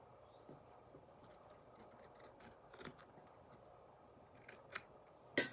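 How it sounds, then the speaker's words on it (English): Scissors snip through craft fabric while a dog-themed Dollar Tree book is being made, a series of quiet close cuts and scratches ending in one sharper, louder snip. "Let's cut it short right now."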